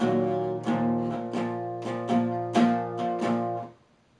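Electric guitar in drop D plays a verse riff, a series of ringing chords struck in a steady rhythm, about seven attacks, up close and alone, cut off sharply near the end.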